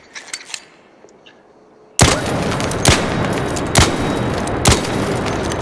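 A video game weapon fires at a target dummy, with a few faint shots and then four loud, evenly spaced gunshots about a second apart, each leaving a long echoing tail.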